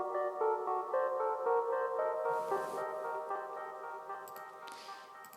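Trap beat melody loop programmed in LMMS, a steady bright synth pattern repeating throughout at moderate volume, with a few soft crash-like washes, no voices.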